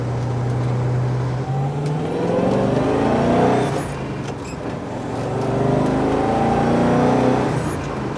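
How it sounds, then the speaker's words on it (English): Holden Torana A9X V8 hatchback being driven, its engine droning steadily with rising and falling revs through gear changes, loud and close from inside the car, with no talking. "Can't believe I'm actually driving a genuine A9X hatchback."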